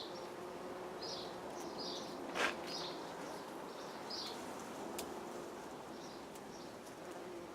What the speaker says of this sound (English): And if I'm quiet, can you hear the bees?